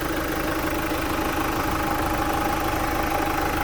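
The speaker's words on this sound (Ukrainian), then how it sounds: "І ось робота двигуна." A 2021 Opel Movano van with a 2.3 Euro 6 engine idling, a steady, even low hum close by, constant throughout with no revving and no voices.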